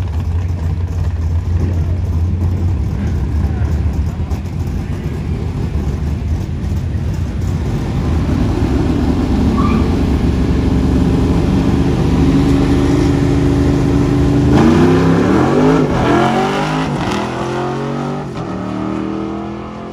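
Drag racing cars, a Corvette and a Jetta, roar through loud sustained engine noise, with a rising, revving acceleration sweep near the end as the runs finish.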